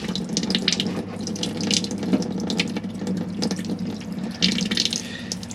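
Water runs steadily from the sink tap in a Mobilvetta I59 motorhome with the water pump switched on, a continuous close splashing flow with slight surges.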